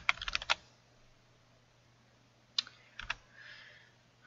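Fingers type on a computer keyboard in several short bursts of crisp, close clicks separated by brief pauses, with no talking.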